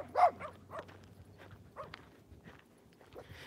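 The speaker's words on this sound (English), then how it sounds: "Crazy doggies." Several dogs bark in sharp bursts at the start, then yap more sparsely and faintly, with light footsteps underneath, outdoors on a morning walk past unpenned dogs.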